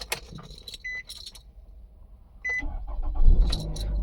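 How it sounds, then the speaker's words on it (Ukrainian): A 2017 Nissan Rogue started with the key: a few chime tones and clicks, then the starter cranks and the engine catches into a steady low idle, loud and close. "Давайте спробуємо його завести. Заводиться з ключа."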